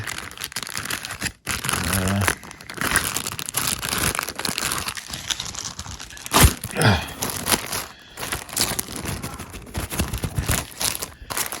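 Plastic bag crinkling and rustling as it is opened while unboxing a Cobra Fi2000 PowerPro, a continuous close, loud crackle with a few sharp snaps.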